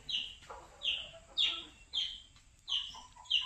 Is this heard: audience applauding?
no